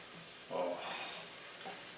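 Chicken curry sizzles quietly in a pan while a spoon stirs it, giving a soft, steady frying hiss with a brief louder scrape of stirring, heard close but faint.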